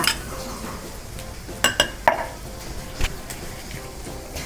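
Pork is tipped into a pan and stir-fried for a Thai long eggplant stir-fry, with a soft frying hiss under sharp clinks and scrapes of a utensil against the pan, close and without talk.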